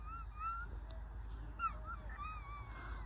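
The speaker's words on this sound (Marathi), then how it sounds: "कुत्र्याचं पिल्लू आलंय" A puppy whimpers and yips in thin, high rising whines, several short cries scattered over a steady low background rumble, fairly near and moderately loud.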